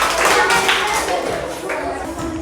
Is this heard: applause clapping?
yes